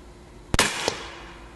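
A single sharp shot from an Umarex Air Javelin Pro air gun fired at a paper target, a crisp crack followed by a fainter second impact click a moment later.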